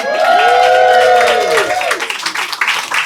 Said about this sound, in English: Let's give the round of applause to the front row.